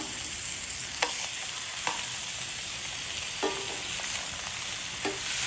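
Spicy tuna steaks sear in a hot pan just after flipping, giving a steady close sizzle throughout with a few light clinks of a utensil against the pan.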